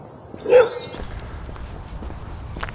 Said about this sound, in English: A dog is running at me.